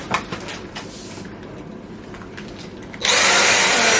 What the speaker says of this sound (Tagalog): Push the trigger and see if the power head works.